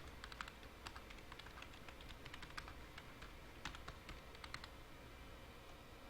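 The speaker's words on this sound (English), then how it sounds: "You can actually type in the name of a video" Typing on a computer keyboard to enter a video name in a search box, a run of quick faint key clicks in bursts with brief pauses, close but quiet over a low background hum.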